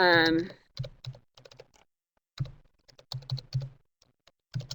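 Computer keyboard keys are typed in short bursts of crisp clicks, close and fairly quiet, following a brief spoken word at the start, with pauses between the clusters of keystrokes.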